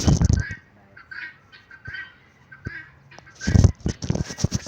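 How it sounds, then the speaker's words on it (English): Guinea fowls give harsh, repeated cackling calls in clustered bursts, loudest at the start and end with scattered single calls between, close by and with no talk. "They are called the guinea fowls."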